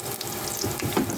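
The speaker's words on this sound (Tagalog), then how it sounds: "At sumasagit-sit na po ang luya." Chopped ginger sizzles in hot oil in a frying pan, a steady close crackle with small bursts of stirring, no voices.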